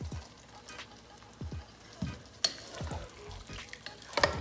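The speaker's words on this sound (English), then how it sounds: "And I mix everything well" A spoon stirs sambar powder into a dal mixture in a cooking pot, giving soft intermittent scraping and swishing strokes at close range with a faint sizzle underneath and no talking.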